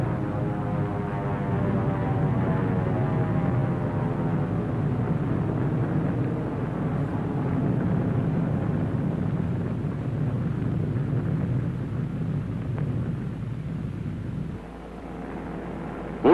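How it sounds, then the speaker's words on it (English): A drone airplane flies over the target fleet after the Bikini atomic blast, a steady, loud engine drone with a low rumbling hum and droning harmonics that holds for the whole stretch, dipping slightly near the end. "Here is one of the drone airplanes flying over the target fleet after the blast."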